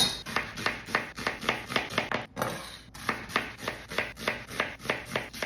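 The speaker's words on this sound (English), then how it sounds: "First up, chopping an onion." A knife chops an onion rapidly on a cutting board in a steady rhythm of sharp taps, briefly pausing once before resuming.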